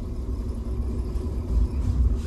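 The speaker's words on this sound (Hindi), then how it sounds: "ये जा रही गाड़ी देखो पीछे आराम से जा रही है" Car in gear with an automatic transmission creeping slowly backward with the driver's foot fully off the accelerator, a steady low engine and road rumble running close and continuous, swelling slightly toward the end.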